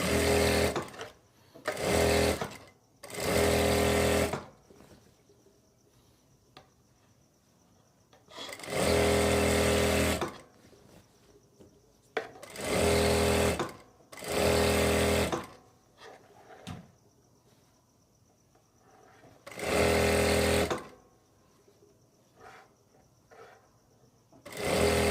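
Sewing machine stitching a half-inch seam around palazzo pants, several bursts of steady whirring lasting one to three seconds each, separated by quiet pauses.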